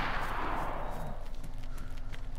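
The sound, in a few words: gunshot fired in the video game DayZ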